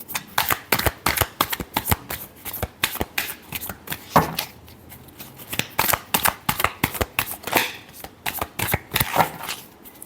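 Tarot cards shuffled by hand in a fast, close run of crisp riffling bursts and slaps, repeating steadily with short pauses between passes.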